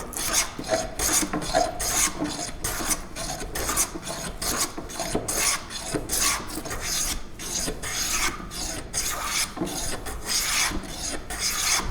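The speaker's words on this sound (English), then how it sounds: "it's as simple as planing down to those lines. So heavier cuts to start with." A hand plane takes heavy cuts across a wooden chopping board, making a close, rhythmic series of rasping strokes about twice per second.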